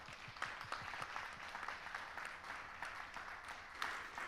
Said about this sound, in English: while we give you a little round of applause